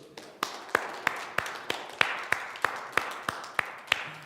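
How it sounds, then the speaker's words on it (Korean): A church congregation at a Sunday worship service claps in unison, about a dozen sharp, evenly spaced claps in a steady rhythm, fairly faint with room echo. "박수 한번 쳐주세요."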